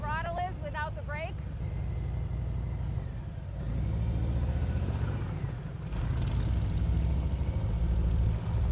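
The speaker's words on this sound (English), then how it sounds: "See how unsteady my throttle is without the brake?" A motorcycle engine runs through a slow practice maneuver with unsteady throttle, its low rumble rising and dipping in uneven surges, while a rider talks over it at the start.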